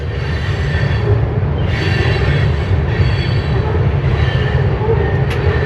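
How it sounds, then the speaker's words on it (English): A train rumbles past close to a shack, shaking it, a loud continuous low roar with rhythmic wheel clatter and faint squealing, no voices. "The whole shack is shaking from that freaking train."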